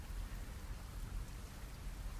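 Steady rain falling outdoors in a continuous dense hiss, fairly quiet, with no talk or other distinct sounds.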